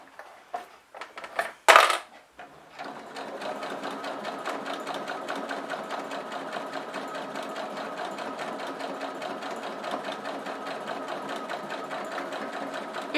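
A sewing machine stitches a fabric seam along a line, starting after a few brief clunks and handling noises, then running in a steady, close, rapid whirring rhythm of needle strokes to the end.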